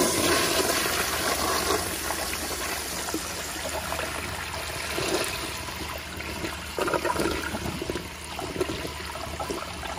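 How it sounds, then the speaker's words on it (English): A NOS URC Colby urinal flushes with a loud rushing of water that settles into a running trickle as the bowl refills, heard close up and alone without speech. "So yeah, let me give y'all a flush."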